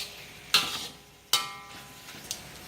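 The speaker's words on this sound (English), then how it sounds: "Slowly stir now." A spoon or spatula scrapes twice through lemongrass chili shrimp in a pan, each sharp stroke over a soft background sizzle, followed by a lighter tap.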